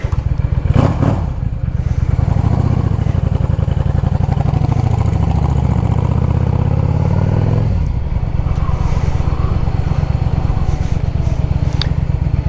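A 2010 Yamaha V Star 650 motorcycle engine idles close by with a steady, loud low rumble, pitched slightly higher and rougher for the first eight seconds before settling into a smoother idle; no talking.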